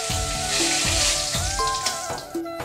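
Whole cumin, dry chilli and bay leaf sizzling in hot oil for a mashkalai dal: a steady, loud, close frying hiss with faint crackles throughout.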